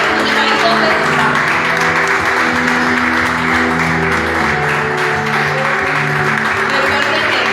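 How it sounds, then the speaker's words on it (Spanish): A church congregation applauds, a dense sustained wash of clapping at strong volume, mixed with voices and a musical tone underneath throughout. "Denle un fuerte, fuerte aplauso al Señor ahí donde está."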